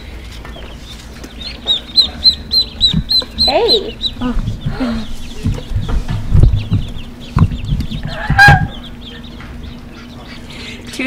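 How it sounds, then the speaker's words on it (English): Ducks at a farm store, a series of quacks and bird calls scattered across the clip, close and fairly loud, with a person talking briefly among the calls. "Two ducks."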